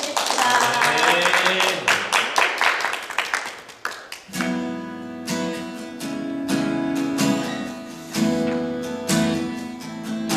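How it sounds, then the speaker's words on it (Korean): A congregation at a children's worship service claps in praise, with sharp repeated handclaps over sustained singing or musical tones, the clapping growing steadier and more rhythmic after the first few seconds. "하나님께 영광의 박수 올려드립니다"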